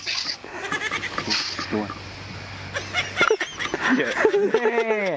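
A goat bleats in quavering, wavering cries near the close, preceded by people talking and laughing close by.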